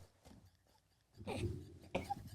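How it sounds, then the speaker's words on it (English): Two sharp coughs, close and fairly loud, following a quieter stretch of soft rustling. "Of all the days to have a cough."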